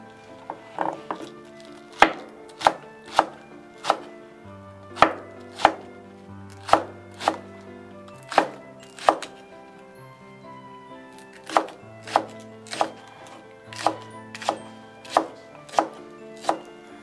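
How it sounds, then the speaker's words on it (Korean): A knife chops green onion (daepa) on a cutting board for beef bulgogi, giving about twenty sharp, close, evenly spaced strikes over a soft tonal background. "자, 대파를 썰겠습니다."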